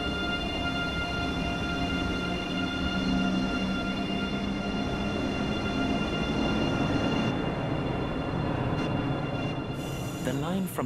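Train Sim World 2 gameplay with a train pulling away: a steady, loud rumble of engine and rail noise with sustained high tonal whines, running continuously and growing slightly busier toward the end.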